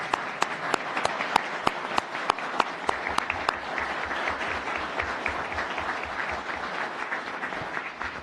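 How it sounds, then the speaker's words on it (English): Sustained applause from an audience at a city council meeting, dense steady clapping with a few sharp individual claps standing out near the start, continuing evenly throughout without speech. "you're going to applaud"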